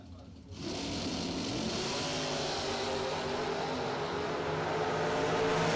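Drag racing cars, a Plymouth Valiant against a Camaro, launch with a sudden burst of engine roar that builds steadily louder, while an announcer talks over the noise.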